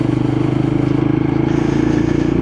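A Lexmoto LXR motorcycle is ridden round a corner, its engine a loud, steady low throb with a rapid pulsing beat under wind rumble, close to the rider.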